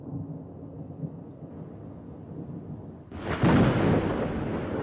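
A thunderstorm over the Masai Mara: low rumbling for the first few seconds, then a sudden loud burst of thunder with rain noise that stays heavy and close to the end.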